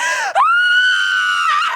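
A single loud, sustained high-pitched scream from a woman, close and piercing, briefly catching before holding steady.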